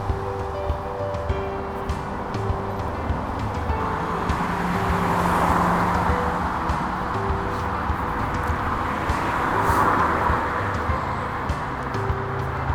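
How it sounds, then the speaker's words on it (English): Continuous motorway traffic rumbles nearby from a path beside the road, with vehicles swelling and fading as they pass, a steady low roar without any talking. "it's not the quietest of paths because of the traffic"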